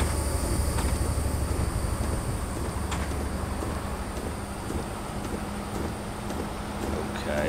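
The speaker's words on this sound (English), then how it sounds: "Oh, look, there's a train over there" Train rumbling past in Train Simulator 2015, heard from a Class 121 bubble car: a steady low rolling drone with wind-like hiss and faint periodic clicks, moderately loud and continuous with no talking.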